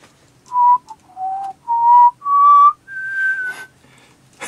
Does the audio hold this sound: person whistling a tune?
yes